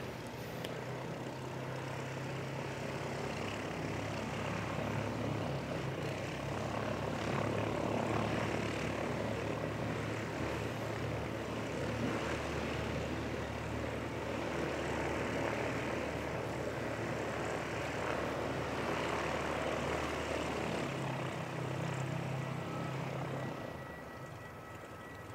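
An Airbus A320 airliner departs the runway in strong winds, its engines a steady, broad roar held at fairly constant loudness for about twenty seconds before easing slightly at the end, with no voices.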